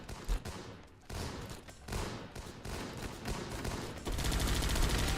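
A video game battle in which gunshots hit troops: rapid bursts of gunfire and volleys crack in quick succession, growing denser toward the end, loud and close with no voices.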